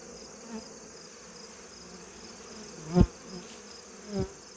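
Honeybees hum steadily around an open hive while it is being worked, a continuous close buzz with a couple of louder knocks or thumps of equipment near the end.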